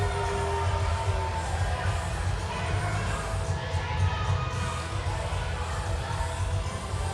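A wrestling crowd cheers and shouts steadily in an arena at a tag team match, a continuous wash of voices with no breaks.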